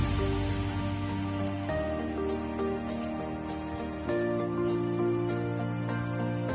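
Steady rain falls in a village during the rainy season, a constant even patter with a low droning hum underneath and no voices.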